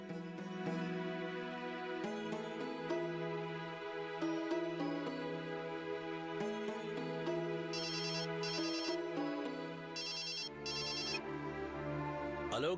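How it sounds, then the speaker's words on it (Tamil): A telephone ringtone plays as an incoming call arrives during a Tamil TV serial scene, a continuous melodic electronic ring lasting throughout, loud and steady with no talk over it. "ஹலோ கணேஷ் தம்பி, திடீர்னு ஃபோன் பண்ணிருக்கீங்க, என்ன விஷயம்?"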